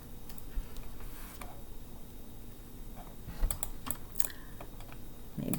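Typing on a computer keyboard, with scattered quiet key clicks and a few quick bursts of taps against a soft room hum, with no talking.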